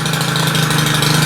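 A four-stroke string trimmer idles nearby, its steady, pulsing engine drone loud and constant through the brief moment.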